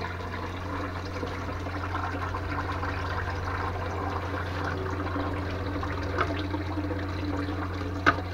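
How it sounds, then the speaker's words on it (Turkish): A caravan toilet flushes after its button is pressed, a steady rushing of water running continuously at moderate level, with a low hum beneath and a couple of small knocks near the end. "Tamam arkadaşlar, sifonumuz da çalışıyor"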